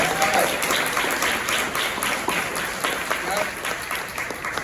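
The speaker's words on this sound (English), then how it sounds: "let's have a round of applause for Claudia" Audience at a community diversity forum clapping steadily for a speaker, dense sustained applause at close range with voices mixed in beneath it.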